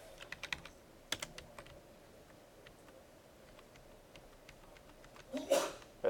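Someone types code on a computer keyboard in a programming class, leaving quick clusters of light key clicks that come in short bursts with pauses between them, fairly faint against the room hiss.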